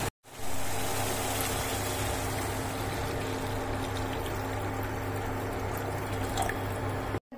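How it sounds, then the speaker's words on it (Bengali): Pre-heated water pours into a simmering cauliflower curry in a pan, making a steady, continuous rushing and splashing wash that runs for several seconds before stopping abruptly. "এই সময় আমি এর মধ্যে দিয়ে দেবো আগের থেকে গরম করে রাখা পরিমাণ মতো জল।"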